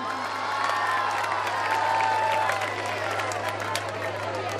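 Audience at a school silver jubilee celebration clapping and cheering, a dense, steady roar of applause with scattered shouts, over a constant low electrical hum from the sound system.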